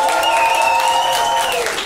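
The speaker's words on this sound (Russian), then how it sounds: "Вот мы записали дохуя аплодисментов, блядь, да?" Studio audience applause recorded for a comedy talk show, a dense continuous wash of clapping at steady loudness throughout, with a few tonal whistle-like lines riding over it.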